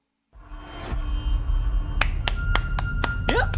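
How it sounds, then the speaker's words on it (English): Several sharp hand claps ring out in a loose, uneven series over a low background hum, fairly close and clear. "I'll clap for that."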